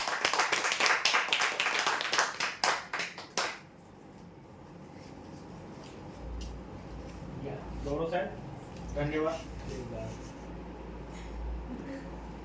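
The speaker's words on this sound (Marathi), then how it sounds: "जोरदार टाळ्या होत्यासाठी" A burst of loud clapping from a crowd at a weekly lucky-draw event fades out after a few seconds, leaving a quiet room with faint murmuring.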